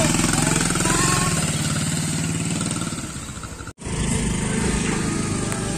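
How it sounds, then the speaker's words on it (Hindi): A motorbike engine runs loud and steady close by, with a brief cut in the sound partway through before it carries on, ready to set off from a house in Kathmandu. "अब बाइक स्टार्ट गरिन्छ अब हामी गइन्छ है"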